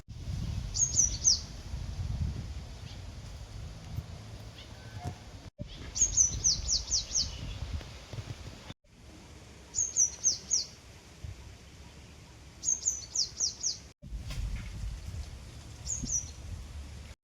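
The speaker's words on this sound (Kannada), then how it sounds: "ಹಾಗೇ ಕೇಳಿಸ್ಕೊಳ್ಳಿ ಆ ಪಕ್ಷಿಗಳು ಕೂಗೋದು" Birds call outdoors after heavy rain, with bursts of bright, quick chirps repeating every few seconds over a low background rumble, some calls nearer and some fainter.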